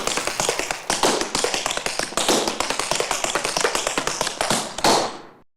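Tap dancing shoes striking a hard floor in quick, crisp rhythmic bursts, dense clusters of sharp taps close by, ending abruptly after a few seconds.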